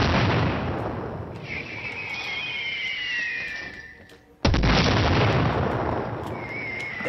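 Enemy fire in Sniper Ghost Warrior 3, with heavy booming shots and a sustained roar of combat, a sudden loud blast near the middle, then further rumbling gunfire, with no one talking.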